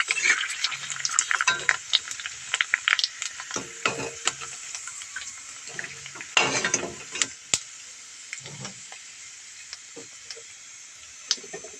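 Fuchka puffs fry in hot oil with an uneven crackling sizzle and bubbling, broken by ticking and clicking knocks from a utensil. No one speaks.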